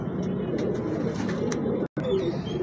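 A young pigeon bred for flying coos softly and steadily up close, its murmuring calls running under a voice, with one brief cut near the end.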